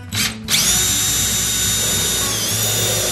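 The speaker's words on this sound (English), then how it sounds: "I'm going to pre-drill the holes and then run my nails down through the hole." A power drill pre-drills holes in salvaged wood for a license plate birdhouse, giving a brief whir, a pause, then a sustained high, steady whine up close.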